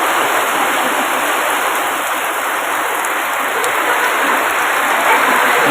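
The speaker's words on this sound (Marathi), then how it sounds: "प्रमाणाच्या बाहेर पाऊस पडायचा चालू झाला आहे" Heavy rain pours down in a steady, dense hiss, loud and unbroken throughout.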